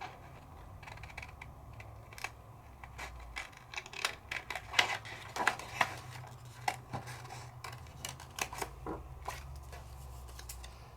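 Scissors trim patterned Italian paper for card making, a run of small crisp snips and rustles close by in a quiet room, sometimes clustered and sometimes spaced apart, with no one speaking.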